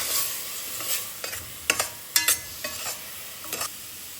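Grated coconut frying in a pan for coconut payasam, a steady hiss of sizzling broken by several sharp scraping strokes of a spoon stirring it, close and fairly loud with no talk.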